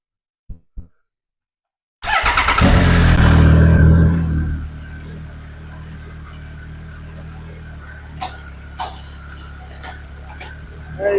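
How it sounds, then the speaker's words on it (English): Triumph Speed Triple 1050 motorcycle with no drive to the rear wheel, starting up with a loud rising rev, then settling into a steady close idle with a few faint clicks. "Triumph Speed Triple 1050. Gent complaining of no drive to the back wheel. So we'll start it up."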